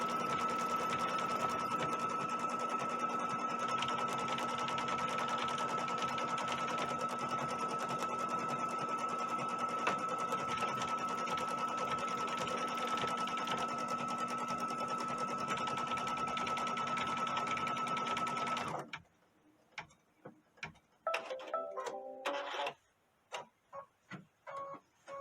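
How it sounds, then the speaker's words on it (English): An embroidery sewing machine sews a running stitch with a steady, rapid mechanical hum and tick for most of the stretch, then stops, leaving scattered clicks and brief handling noises near the end. "put the foot down, and push go. And that first one that we created is just a running stitch."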